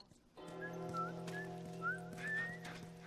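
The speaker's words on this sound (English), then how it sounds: "I'm whistling." A character whistles a wandering tune in The Last of Us, with clear pitched notes rising and falling over a steady low engine hum from a vehicle, alone and fairly close.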